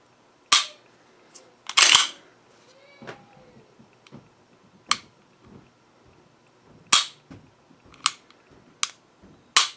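An HK P2000 pistol with a Langdon trigger job being dry-fired, several sharp isolated clicks spread irregularly, with quieter small mechanical taps of trigger reset between them, close and dry with no voices.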